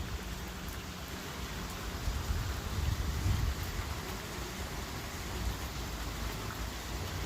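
Rain falling steadily in Bathinda, a faint continuous hiss of drops with no voices and no clear breaks.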